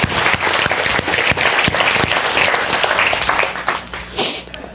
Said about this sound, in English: I want to do another applause for our worship team because they're killing it.